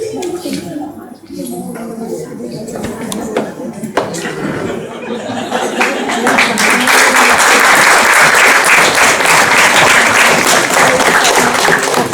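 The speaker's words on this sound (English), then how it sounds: "I request a round of applause after inauguration." After talk and scattered chuckles from the audience, a round of applause swells at an inauguration ceremony and holds strong and steady to the end.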